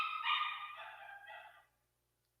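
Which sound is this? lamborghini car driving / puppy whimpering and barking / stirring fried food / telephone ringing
puppy whimpering and barking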